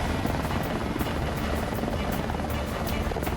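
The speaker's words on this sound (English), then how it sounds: "Pilot Joe heads for the Lake Skinner rendezvous point" A rescue helicopter flies over rugged terrain near Lake Skinner, its rotor thudding in a steady, loud, continuous drone with rhythmic blade chop throughout.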